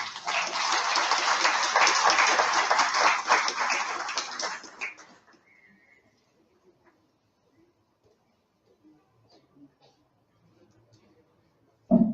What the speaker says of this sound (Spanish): Vamos a tributarle un fuerte y cariñoso voto de aplauso.